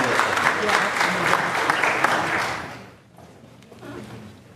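Audience applause at a Lynn City Council meeting, steady dense clapping for about two and a half seconds that then drops off abruptly, leaving softer murmuring and a few scattered claps.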